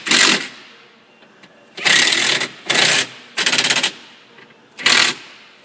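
T27 bolts are run in on a 2007-or-later Ford Expedition front window regulator with a power driver, heard close as five short whirring, ratcheting bursts separated by pauses.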